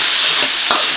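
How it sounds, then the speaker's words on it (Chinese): Loud, steady sizzling of bean paste, hot pot base, dried chilies and Sichuan peppercorns frying in oil in a wok. A close spatula stir scrapes through the hiss. "然后开始炒料，锅里加油，豆瓣酱、火锅底料、干辣椒、花椒"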